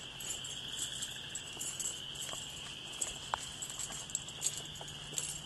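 Faint, steady insect chirping in a quiet outdoor setting, with a few soft scattered taps and rustles.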